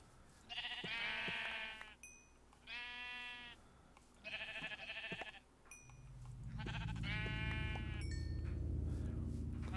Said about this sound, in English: there were so many sheeps around, I'd probably kill a few more